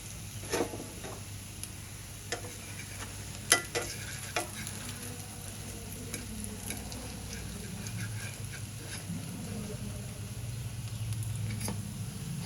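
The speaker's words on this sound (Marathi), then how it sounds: "कटलेट मी काढून घेतले कढईतून आणि दुसरेही आता तळायला ठेवले" Sabudana cutlets fry in hot oil in a kadhai with a steady, close sizzling bed and occasional sharp pops and crackles, with no voices.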